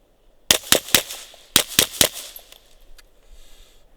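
Sharp, loud reports from a Ruger PC Carbine 9mm fired during a target drill, two quick groups of three shots each, followed by fading echo and quiet outdoor ambience.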